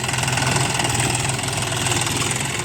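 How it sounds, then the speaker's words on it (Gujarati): A tractor engine runs steadily during inter-row cultivation in a sesame field, a continuous mid-loud idling rumble with faint knocking and vibration, no voices. "રજનીભાઈ આપણા ટ્રેક્ટર ઉપર તલની અંદર પહેલી વખત ચલાવે છે"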